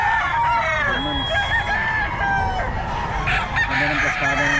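A gamefowl rooster crows repeatedly at close range, loud and clear, with harmonic cock-a-doodle-doo calls and clucking from other birds in a yard.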